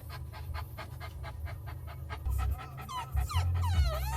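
A dog pants rapidly and rhythmically in the back of a car, close to the listener, with a few whimpery breaths near the end over low road rumble.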